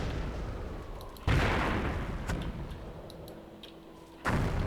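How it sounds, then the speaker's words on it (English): Mortar rounds fire and land during a battle in the war game Goliath Online, with sharp booms breaking out at intervals over a low, steady rumble of distant combat. "Allied mortars getting a little bit closer, but Axis mortars are probably still firing at where this infantry were"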